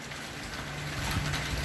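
Steady rain splatters through a thunderstorm in Nepean, Ontario, a dense hiss that swells slightly toward the end with a low rumble underneath and no talk.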